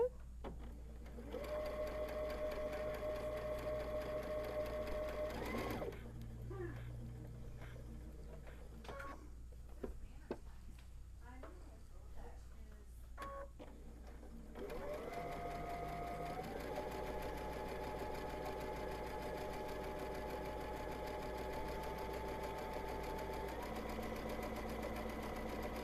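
A sewing machine stitches a giant Christmas stocking in long steady runs, its motor whirring loud and close, with a pause partway through and a fast back stitch at the end.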